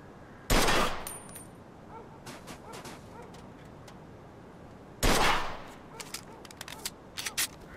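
Two loud gunshots crack several seconds apart in Mafia II as shots are aimed at a car's gas tank, each followed by a brief decaying tail and faint clicks between them.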